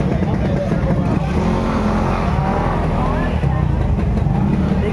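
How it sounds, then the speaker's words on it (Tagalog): Motorcycle engines hum and rumble through a crowded fish port market in Parañaque, a dense continuous drone of vehicles passing close by, with people talking over it. "Dahil sa sobrang dami ng motor."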